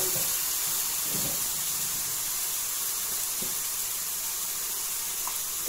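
Spinach with jackfruit seeds frying in a pan gives a steady, broad hiss and sizzle that holds throughout, with a few soft clinks from stirring.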